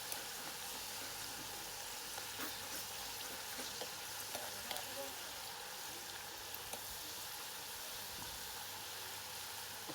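Fries frying in hot oil for a Jamaican breakfast, a steady soft sizzle and crackle that runs the whole time, with faint scattered pops and no talk.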